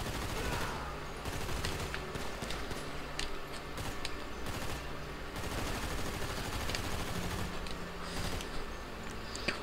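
Rapid bursts of automatic gunfire crackle almost without pause in Grand Theft Auto V, loud and dense, with overlapping volleys and mechanical clicks throughout.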